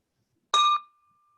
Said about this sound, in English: ring the bell, both for CB2 and for Ron Cooper.